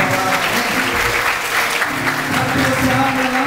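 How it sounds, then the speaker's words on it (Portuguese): Church congregation applauding loudly and steadily for the Lord during a Portuguese-language service, a dense sustained clapping that fills the room, with some voices mixed in underneath. "Aplaude ao Senhor bem forte."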